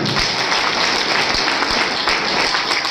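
An audience at an indoor event bursts into loud, dense applause, a continuous roar of many hands clapping close by for the full few seconds.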